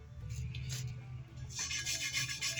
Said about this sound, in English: brass brush, and it doesn't take much. Just a little bit of scrubbing right there.